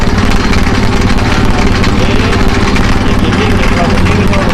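Roadside sugarcane juice press machine running loud and close, a constant droning motor rumble with rattling vibration that never lets up, mixed with traffic noise.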